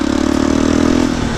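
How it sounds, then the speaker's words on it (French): A Yamaha Raptor 350 quad's big single-cylinder engine revs hard up close, a loud, throbbing, pulsing roar that holds steady and then eases slightly near the end. "ça c'est du bon gros monocylindre"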